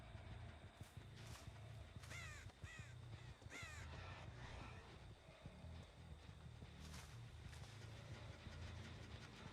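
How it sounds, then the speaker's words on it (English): Crow cawing repeatedly in a horror video game, harsh caws at mid distance over a steady rumbling ambient background, no talk. "Saw a bird fly over here."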